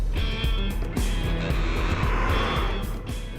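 A Honda BR-V with the i-DTEC diesel engine is being driven. Its engine drones steadily and loudly at close range, with road noise throughout and no pauses.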